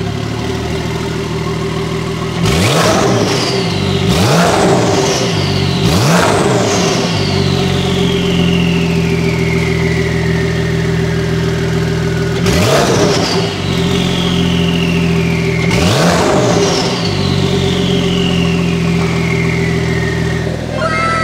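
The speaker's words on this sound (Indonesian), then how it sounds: "Nah, sekarang kita buktikan dalam kondisi sport mode-nya. Open valve, Ridwan." A Porsche 911 GTS fitted with an IPE exhaust, valves open in sport mode, revs hard in five sharp blips grouped in two bursts, each snarl decaying back to a loud, steady idle.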